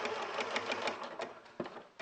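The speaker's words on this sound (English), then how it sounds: "So now we're going to do our 1/2-inch seam" A sewing machine stitching a half-inch seam, its needle tapping in a quick, even rhythm at close range, then slowing into a few separate clunks near the end.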